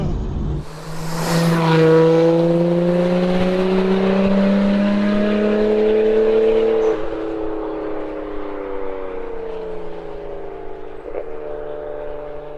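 A loud turbocharged Nissan Skyline R34 GT-T engine revs high and then slowly winds down, its tone dropping over several seconds, with a few sharp backfire pops near the end.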